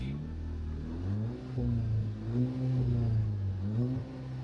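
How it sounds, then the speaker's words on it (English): A stock car engine with a soft rev limiter is revved in place for data logging. Low rumbling idle swells into several rising and falling revs, close and steady. "I'm just going to give it a rev"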